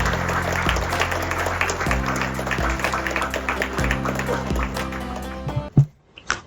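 An audience claps together in a dense, steady round of applause welcoming a speaker at a spiritual gathering, sustained under background music before breaking off abruptly near the end.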